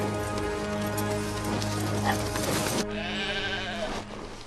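Sheep bleating loudly and close, a sustained wavering bleat followed by another shorter call, with faint background noise.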